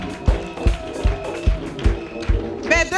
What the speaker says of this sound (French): Offrande d'acclamation. Clap offering.